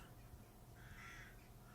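A large flock of crows caws at a distance, a faint harsh call rising briefly above a steady outdoor background hum, with no talking.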